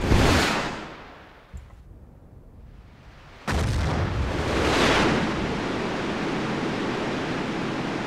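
Explosions and artillery fire in the Battlefield 1942 video game: a loud blast opens, a quieter lull follows, then a second sharp boom leads into a sustained roaring wash of battle noise.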